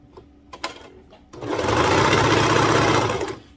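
A serger sewing the side seam of a baby onesie, starting after a few soft handling clicks and running in a steady, loud whirring burst for about two seconds before winding down.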